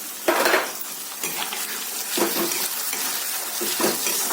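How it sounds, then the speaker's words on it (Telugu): Slit green chilies frying in a pan, a loud close sizzle broken by repeated bursts of scraping and clatter as they are stirred, no talking. "ఇవి కొంచెం సేపు వేగాలి"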